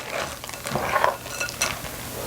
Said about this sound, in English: So now I will just stir this in.